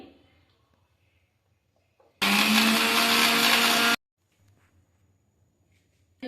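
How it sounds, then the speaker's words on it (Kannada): A mixer grinder grinding coriander, mint and onion masala: a loud whirring motor burst of about two seconds that starts and stops abruptly, with quiet room sound before and after. "ಮಸಾಲ ರುಬ್ಕೊಳ್ಳೋಣ"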